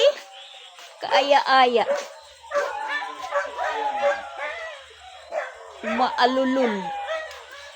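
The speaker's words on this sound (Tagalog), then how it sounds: "Maingay yung mga aso." Several dogs bark, yip and whimper in excited, overlapping bursts, loud and close, mixed with a person talking.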